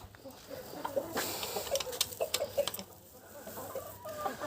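Faint clucking from a brooding hen mixed with soft, high chick peeps, scattered and intermittent against a quiet outdoor farmyard background.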